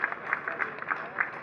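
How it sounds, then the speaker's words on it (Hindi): Audience clapping to welcome a chief minister at a Run for Unity event on National Unity Day, a brief burst of steady applause with rhythmic claps, moderately loud throughout. "एक बार जोरदार ताली बजाकर हम मोहन यादव जी का स्वागत करें"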